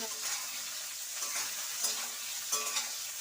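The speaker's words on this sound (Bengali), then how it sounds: "এবারে ওই তেলেই ভেজে নেওয়া হচ্ছে বেগুনগুলোকে" Eggplant pieces fry in hot oil in a pan, a bright continuous sizzle with a few louder crackling bursts as they are stirred, close and fairly soft, without speech.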